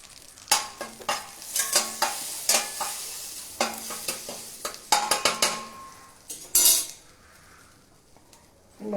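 Spices sizzle in a hot pan as turmeric goes in for a South Indian home dish, with a spoon stirring and scraping in quick, uneven clinks over a steady frying hiss.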